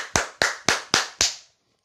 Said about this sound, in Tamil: பலத்த கைத்தட்டலும் எழுப்பின.